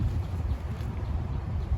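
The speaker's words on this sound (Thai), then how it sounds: "ลมหนาวโยกมา" Cold wind blows across a sunflower field in Thailand, a continuous low rumbling buffet with gusty fluctuations, loud and close like wind striking the microphone, with no talking.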